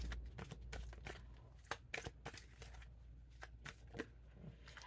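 Cards are handled and shuffled during a card reading, with a quick run of crisp riffling flutters and slaps heard close-up and fairly quiet, without talk.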